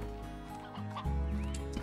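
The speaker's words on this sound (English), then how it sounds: "got some chickens" Chickens cluck in a video game, a few short, soft clucks rising over a quiet game background, with a faint whistling tone near the end.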